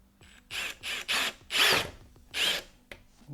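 Cordless power tool on a 2022 Toyota 4Runner TRD Sport front license plate bracket, whirring in five short bursts with brief pauses between them, the fourth burst longest and strongest, close and fairly loud with no talking.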